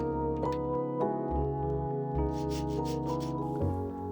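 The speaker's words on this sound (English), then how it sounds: "why am I sawing the bamboo and not splitting it?" A hand saw drawing back and forth through bamboo in a steady rhythm, strokes rasping over a constant low mechanical hum.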